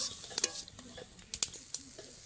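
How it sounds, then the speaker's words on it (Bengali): Lentil and shrimp fritters deep-fry in oil. A soft, steady sizzle is broken by a few light clinks and stirring sounds, close by and without talk. "আমি এখানে একদম ডুবো তেলে ফ্রাই করে নিচ্ছি"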